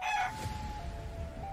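Squeezed rubber toy chickens pressed over the ears in a Hulk versus Siren Head skit give a loud squawking burst at the start, then a long thin steady whistle-like tone that lingers faintly to the end.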